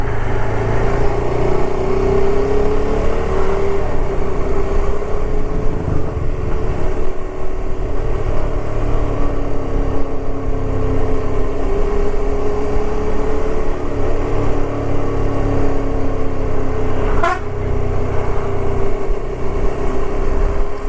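Steady, loud road traffic in Tamil Nadu, with engines droning and passing continuously close by; a brief sharp sound cuts through near the end, and no one speaks over the noise.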